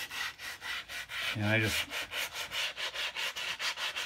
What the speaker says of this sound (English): After filing comes sanding.